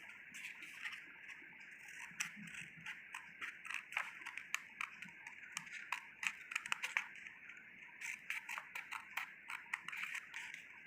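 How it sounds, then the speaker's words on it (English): Scissors snipping fringes into folded paper for a paper flower, a string of quick, crisp cuts in uneven rhythm, close and fairly quiet over a faint background hiss. "Now, using scissor, cut the fringes like this."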